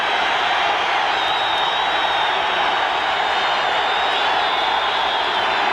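A large football stadium crowd at a 1982 Vikings–Lions game yells in a sustained, loud, dense roar that holds steady throughout, with no breaks or single voices standing out.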